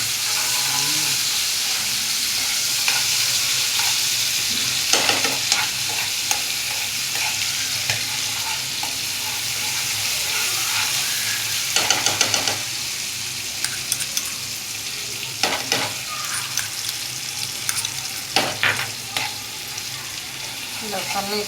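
Unboiled peas frying in hot oil in a pan for bhaji pav, with a constant loud sizzle and intermittent scraping and clattering of a stirring spoon against the pan.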